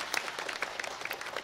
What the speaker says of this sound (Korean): 한 번 더 축복의 박수 해주시겠습니다